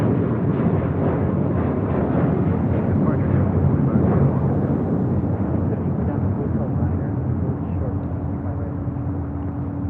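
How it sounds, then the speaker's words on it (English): A JetBlue Airways Airbus A321 jet takes off at LAX, a deep, steady, loud roar that holds for several seconds before slowly easing, with no other distinct sounds. "A 6-year-old A321, JetBlue Airways, flight 2524."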